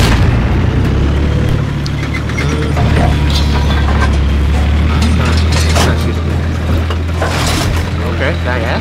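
Tank cannon fire from a T-14 or T-84 Oplot in Garry's Mod ACF combat, a loud, dense low rumble with booming blasts layered over constant engine drone, filling the whole stretch without pause.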